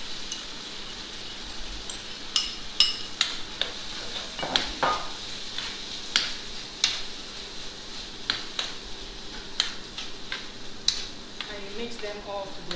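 Onion, pepper and tomato with tomato paste stirred in a pan, a steady low sizzle with repeated light scraping taps of a utensil against the pan at an uneven rhythm, close and moderate.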